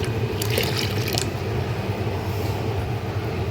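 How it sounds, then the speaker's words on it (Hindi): Water splashing into a cooking pot for kari pakora, a short bright pour near the start, then a steady low bubbling and simmer with no talking. "पानी हमने डबल डाला है, 2 गिना ज़्यादा पानी डाला है"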